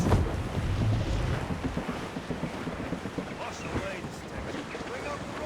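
A sailing ship moves through wind and open water in Assassin's Creed Rogue, with a steady rushing gust and sea wash throughout and shouted voices over it.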